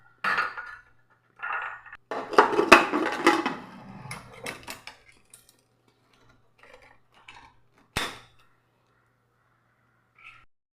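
A pressure cooker lid being closed and locked while making pink palada payasam, a few sharp metallic clatters and clicks in short bursts, then quiet with a last click.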